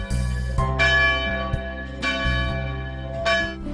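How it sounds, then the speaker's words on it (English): Church bells peal continuously in celebration of the armistice ending the Great War, a dense ringing of overlapping tones with fresh strikes roughly every second and a half, loud and close, with no voices. "The bells were ringing all day."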